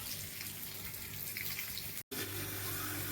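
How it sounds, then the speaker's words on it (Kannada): Water pours steadily from a tap, a close, continuous rushing splash with a brief cut-off partway through before the flow resumes. "ನೀರು ಬಿಡ್ತಾ ಇದ್ದೀನಿ ಈಗ."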